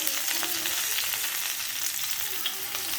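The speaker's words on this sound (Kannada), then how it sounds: "ಇವಾಗ ಇದನ್ನು ಚೆನ್ನಾಗಿ ಹುರ್ಕೋಬೇಕು. ನೋಡಿ ಫ್ರೆಂಡ್ಸ್, ಇದೀಗ ಈ ಥರ ರೋಸ್ಟ್ ಆಗ್ತಿದೆ." Tamarind with spices and coriander roasts in a hot pan for black-eyed pea sambar, giving a dense, steady sizzle and crackle with light stirring scrapes, close up and continuous.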